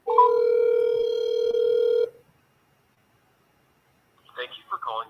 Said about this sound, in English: Let me try calling.